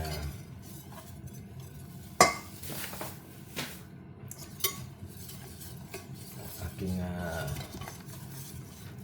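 A utensil stirs flour into a large pot for palabok sauce, producing repeated scraping swirls broken by a few sharp metallic clinks against the pot.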